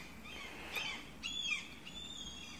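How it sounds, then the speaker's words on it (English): Seagulls call near the water in Sundsvall, Sweden, a few distant, fairly faint cries rising over quiet outdoor ambience. "Must be close to water since there's seagulls out there."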